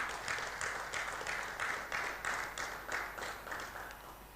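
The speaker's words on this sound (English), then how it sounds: "I think you deserve a round of applause." Small audience at a Nigerian Indonesian investment and trade forum in Jakarta giving a round of applause, faint, somewhat distant clapping in a loose rhythmic pulse that slowly fades out.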